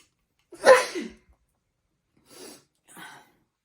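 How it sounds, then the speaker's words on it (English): One sharp, close sneeze breaks the quiet, followed by a couple of soft breaths or sniffs afterward. "Hold on, guys, I gotta sneeze."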